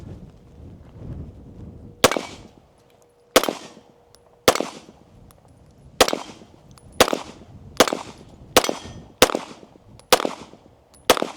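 Gunshots from a Sig Sauer Fuse pistol fitted with an O-Sight optic, fired outdoors for the Fourth of July: about eleven loud, sharp reports with ringing tails, spaced about a second apart after a quiet start.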